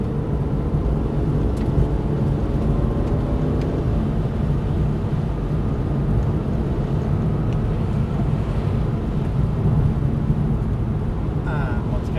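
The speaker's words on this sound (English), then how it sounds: "using all the road on the left and accelerating" Aston Martin car driven hard around a track at Prestwold Hall, with a steady loud engine drone and road rumble throughout, no clear pauses.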